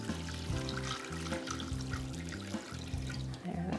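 Hot water poured for wet felting with soap: a steady close trickle and splash of liquid running continuously for several seconds, alone and moderately loud.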